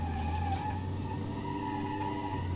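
An old 115-horsepower car with no ABS, front discs and rear drums climbs the Pikes Peak hill climb road, engine droning steadily and close with a faint scrub of tires as it oversteers.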